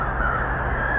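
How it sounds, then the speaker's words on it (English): Crows caw in alarm, a dense, loud, harsh burst of calls filling the whole moment with no speech. "Crows are very predatorial animals."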